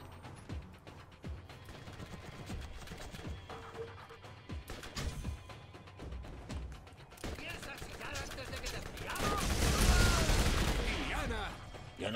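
Gunfire in the video game Borderlands GOTY Enhanced, a busy run of shots and mechanical clatter that builds to a loud burst near the end, mixed with game sounds and a player talking.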